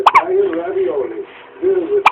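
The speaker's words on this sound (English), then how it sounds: "I also get hiccups." A baby girl who drinks formula hiccups close by, with sharp sudden hiccups at the start and end framing soft babbling and whimpering vocal sounds in between.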